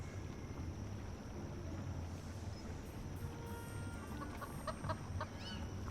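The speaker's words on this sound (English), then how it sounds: "should we offer the corn to the chicken?" A chicken in the video game Foolish Mortals gives soft clucks over a steady ambient game background of low rumble and faint high tones.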